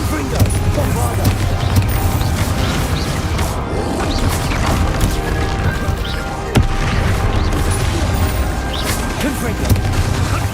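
Repeated explosion spell blasts in a video game, with booms, crashes and mechanical clatter over a constant loud game soundscape, while a voice shouts spell names throughout.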